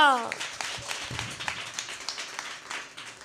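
A church congregation claps loudly and rhythmically during a sermon, a run of sharp close claps with a voice briefly heard at the start.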